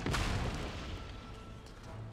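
Howitzer artillery fire in the game Empire Total War, a heavy booming blast that opens loud and rolls off into a dense rumbling wash of distant shots and battle noise.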